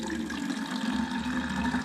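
Film developer pours from the lip of a container into a sink, a steady close splashing trickle of liquid running evenly for about two seconds with no talking.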